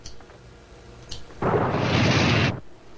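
A WWII-era submarine torpedo launches with a loud, broad rushing whoosh that lasts about a second after a quieter start, then cuts off abruptly.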